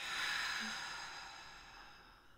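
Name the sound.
deep breathing in through nose, out through mouth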